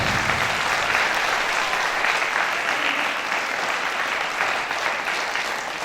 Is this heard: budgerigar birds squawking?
no